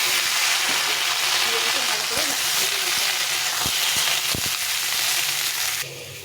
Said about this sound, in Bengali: আলুটা অনেকটা ভাজা হয়ে গেছে, লাল লাল করে ভেজে নিয়েছি